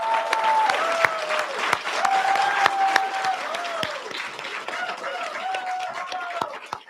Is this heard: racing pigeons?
no